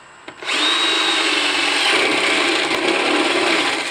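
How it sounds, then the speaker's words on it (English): A power drill bores a hole in wood, starting abruptly with a loud, steady whir and grinding chew through the material that holds without a break, close and alone. "I'll drill a hole."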